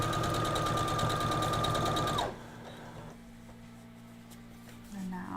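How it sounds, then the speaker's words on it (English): A sewing machine runs steadily for about two seconds while back stitching with shortened stitches, then stops abruptly, leaving a faint low hum and quiet room sound. "Did a little back stitch on that one"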